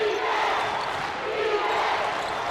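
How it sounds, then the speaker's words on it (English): A crowd at a 3A state quarterfinal high school basketball game, Sabino against Ganado, gives a steady, swelling roar of cheering voices that fills the whole moment. "Crowd's coming alive right now."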